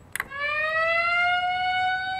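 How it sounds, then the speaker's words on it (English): After a quick clatter, a siren-like tone rises steadily and holds, a loud sustained electronic wail from a juice van, with no voices. "I heard a fire siren."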